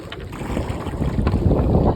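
Strong wind gusts buffet a fishing boat at sea at dusk, a steady broadband rush with low rumbling and water noise continuing for two seconds, loud and close, with no voices.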